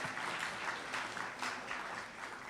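An audience at a law school talk claps together, a dense, fairly soft burst of applause that holds steady for a couple of seconds.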